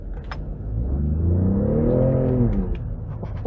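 A 2019 Ford Raptor pickup in four-high accelerating hard with its tires slipping for traction, the engine rising in a loud, close, swelling roar that peaks mid-run and eases off, with no talk over it.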